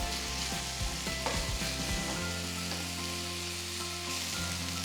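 Finely chopped large onion frying for pav bhaji, a strong steady sizzle close up, with scrapes of stirring and a low steady hum beneath.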